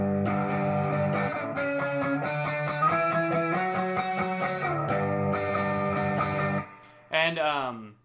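An electric guitar plays a riff, with ringing, droning chords picked in a quick steady rhythm up close, then a slide at the end and a short burst of speech.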